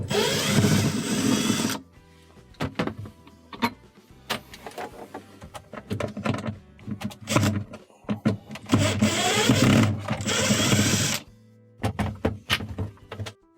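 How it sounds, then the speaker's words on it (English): Cordless power drill backing out screws from a refrigerator panel and bar during a defrost repair, several short whirring bursts with pauses and handling thunks in between, close and fairly loud, no talk. "We have to remove these two screws to remove this bar, followed by these two screws on the bottom to remove the panel."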